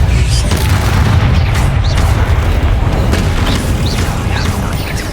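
Bombarda spell explosions from the Hogwarts Legacy video game: a loud, continuous rumbling blast with deep low-end booms that stays dense and sustained throughout, with no clear separate hits.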